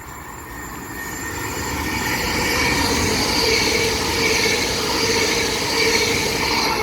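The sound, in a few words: LNER Azuma five-carriage train passing at Patricroft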